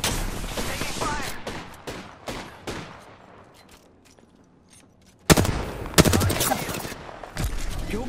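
Gunfire in the Apex Legends video game, dense bursts of rapid shots at the start that thin out, then a loud renewed volley after a brief quiet gap, close and intense with game effects mixed in.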